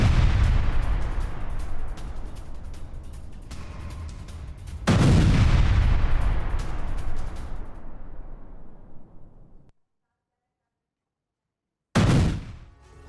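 A Russian military strike in Kherson brings heavy artillery fire and explosions: loud booming blasts with long rolling decay, a second big impact near five seconds, a silent gap, then another sharp burst.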